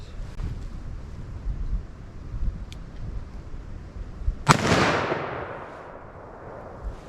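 A .357 Magnum revolver fires a single loud, sharp shot at a 40-yard range, its report ringing and decaying over a couple of seconds against steady outdoor wind noise.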